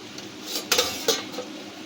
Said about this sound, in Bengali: এবার আমরা ঢাকা খুলে দেখব